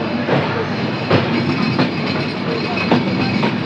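An intercity train pulls out of a Bangladeshi railway station, a loud continuous rumble with rhythmic clacks of wheels over rail joints heard close.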